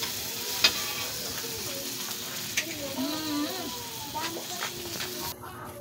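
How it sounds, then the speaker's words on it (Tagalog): Fish sizzles as it fries in a pan, a soft, steady crackle beneath a voice, with a few light clinks of a utensil. "Tapos itong pritong isda, pinirito kong half cook."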